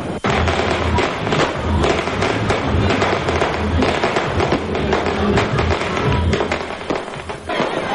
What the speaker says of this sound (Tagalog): Halos walang takot ang ilan kahit na napakalakas ng mga pagsabog.